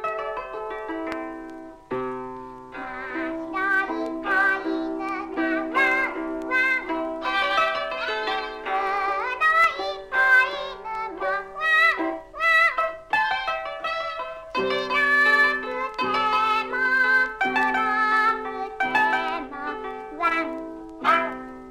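A kokyu, the Japanese bowed fiddle, imitates dog barks and cat meows in a piece by Michio Miyagi, playing bright sliding phrases and short accented yelping notes one after another, clear and up close.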